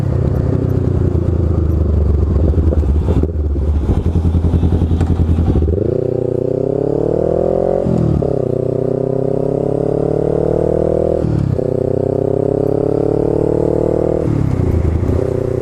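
A Honda Rebel 500 motorcycle fitted with Arrow headers and an aftermarket exhaust idles loudly up close, then revs several times, each rise climbing in pitch before dropping back to a deep, bassy burble.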